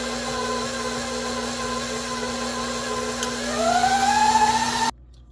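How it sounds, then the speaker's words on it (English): Electric stand mixer creaming butter and sugar for a pecan buttermilk pound cake, a steady close whirring hum whose pitch rises near the end before cutting off abruptly. "Once that all combined, then we'll go to 5th gear and mix it anywhere from 5 to 7 minutes"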